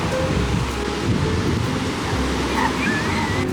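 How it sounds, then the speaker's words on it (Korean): Ocean surf rolls onto the beach at Jimbaran, Bali, a steady, loud wash of breaking waves with wind buffeting the microphone throughout and no voices. "바닷가 좀 거닐어 보겠습니다. 미국 바다랑은 완전 다르다."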